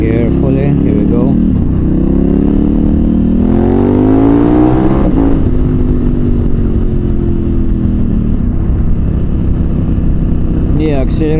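A KTM 1290 Super Adventure R motorcycle on TKC 80 tires accelerates hard: a loud, close engine roar climbs in pitch, dips at a gear change, then climbs again under constant wind rush.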